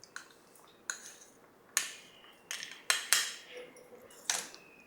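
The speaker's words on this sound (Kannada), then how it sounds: "ಪತ್ರೊಡೆ ಇಲ್ಲಿ ಕಟ್ ಮಾಡು." A knife cuts steamed patrode, colocasia leaf rolls, on a plate, giving about seven sharp metallic clinks at irregular intervals, close and fairly quiet.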